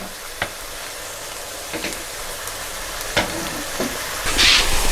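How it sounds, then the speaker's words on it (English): Garlic and onions frying in beef fat for British chili con carne, a steady broadband sizzle with a few sharp clicks of stirring and a brief louder hiss near the end, no voices. "we want that garlic and onions to cook in that fat in there"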